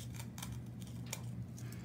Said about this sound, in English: I was just using scissors with it. Cut it down in there.